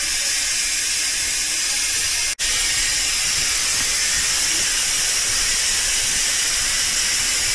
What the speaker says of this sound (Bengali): জানি না কিছু একটা প্রেশার বেরোচ্ছে এই মুহূর্তে